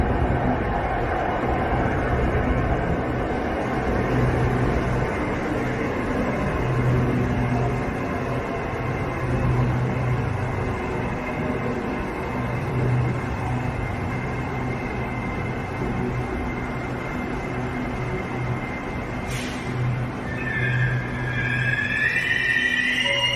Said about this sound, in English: the squeaky brakes pain to the ears